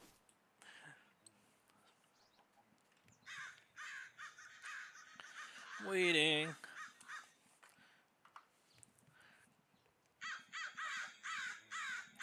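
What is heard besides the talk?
crow cawing in a Minecraft mod pack video game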